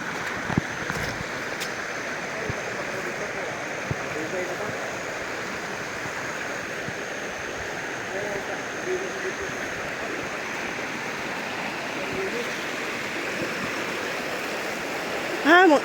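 Water from a mountain spring flows steadily on a hillside walk, a continuous broadband rush that stays even and close throughout, with no distinct splashes.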